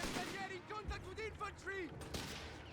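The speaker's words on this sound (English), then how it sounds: "heavy machine gun feels pretty good here" Heavy machine gun fire from the real-time strategy game Company of Heroes 3, bursts of rapid shots mixed with artillery-like booms under a continuous layer of game sounds, with a voice talking over parts of it.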